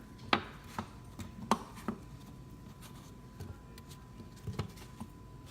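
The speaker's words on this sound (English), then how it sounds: "I'm going to take each one and I'm going to cut them into quarters." A knife chops potatoes on a cutting board, several sharp, close knocks at irregular intervals with quiet pauses between them.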